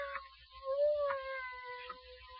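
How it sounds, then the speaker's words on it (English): A cat meows in a radio drama, a few drawn-out tonal cries with a rising, sustained middle note, fairly clear against a quiet background with no talk. "I hear a cat."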